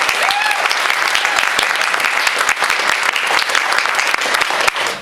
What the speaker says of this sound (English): please have a round of applause for bitHeads